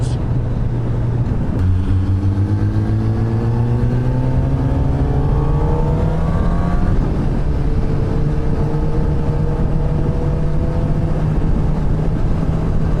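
A 2017 Kawasaki ZX10R engine roars loud and close while riding, with a sharp shift early on and then steady climbing revs rising through the gears, under heavy wind rush.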